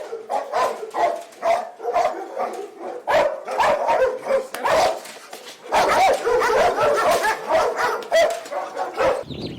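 Dogs barking continuously at a security dog training facility, loud and close, with overlapping barks and yips in a rapid, uneven rhythm.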